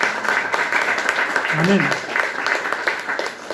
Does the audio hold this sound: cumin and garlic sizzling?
no